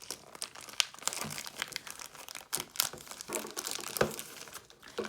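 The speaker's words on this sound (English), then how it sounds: "How do I even open this? Just go ahead and rip it." Plastic and paper packaging of an Incipio phone case for an LG G8 crinkling and tearing open, continuous close rustles and sharp rips with no voice.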